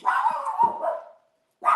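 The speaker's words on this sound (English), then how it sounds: "Oops, that's my dog." A dog barks indoors close by, a single drawn-out bark followed by a second short bark after a brief silence.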